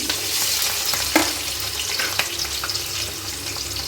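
Chopped green chilies and onions fry in hot oil in a pan, giving a steady close sizzle broken by occasional stirring scrapes and spoon clinks, with no voices.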